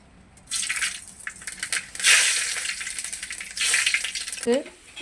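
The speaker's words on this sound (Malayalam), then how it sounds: "ഇപ്പോൾ നമ്മുടെ ഉരുളിയിലുള്ള വെളിച്ചെണ്ണ ഒന്ന് ചൂടായിട്ടുണ്ടേ. അപ്പോൾ നമുക്ക് കുറച്ച് കടുക് ഇട്ട് കൊടുക്കാം, ഉലുവ ഇട്ട് കൊടുക്കാം." Mustard and fenugreek seeds hit hot coconut oil in a traditional pan for lemon pickle, setting off loud bursts of bright sizzling and crackling that swell, ease and flare up again, with a brief scrape near the end.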